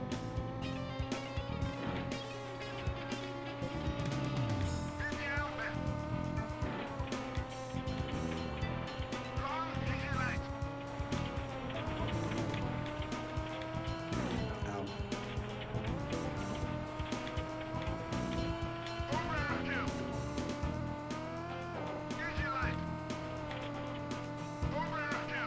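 A video-game race car on its final lap holds a steady engine whine that rises and dips with each gear change, with occasional tire squeal, under ongoing talk.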